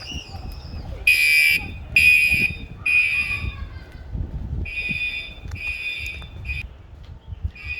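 A neighbor's apartment fire alarm sounds in loud, repeated high-pitched electronic bursts, roughly one per second, then continues in shorter pulses. Outdoor rustling and handling noise sit underneath, with no talking.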